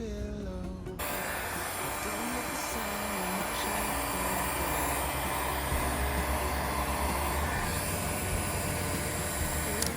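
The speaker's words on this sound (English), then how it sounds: "put the heat shrink up and over, and then we're going to heat that down with the heat gun" Heat gun shrinking heat shrink tubing over joined plugs on a plug-and-play low voltage disconnect kit for an LC300: after a brief pause, a steady loud blowing whoosh with a motor hum holds on without a break.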